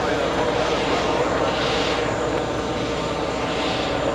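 Airliner on final approach at JFK airport, a loud steady roar of engine noise that swells and fades slightly across the span, with no voices.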